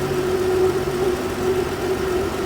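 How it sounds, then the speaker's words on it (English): A 2013 Ram with the 3.6 engine idles steadily with a slight misfire, its low, even hum running close and constant without a break. "It doesn't feel like it's missing all that bad, but it does feel like it has a slight missing."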